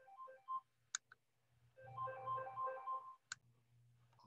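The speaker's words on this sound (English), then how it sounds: "I had a phone call." A phone ringtone interrupts an online math lesson, its short melodic tones playing softly in a quiet room, with a couple of sharp clicks and a low steady hum in the background.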